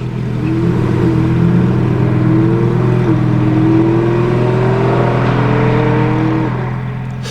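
A Lamborghini Huracan STO sports car engine drones and rises in pitch, loud and steady for several seconds before easing off, with no talking.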